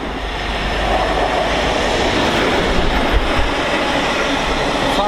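A freight train rumbling past Stafford station on the West Coast Main Line, a loud, steady roar with clattering wheels that swells in and holds close throughout.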